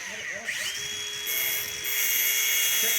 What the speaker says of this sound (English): let me use his grinder so he could shorten the chain to the right length